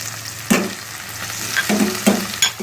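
Okra, garlic and coriander sizzle as they fry in hot ghee, with a few stirring scrapes and clatters over the steady hiss.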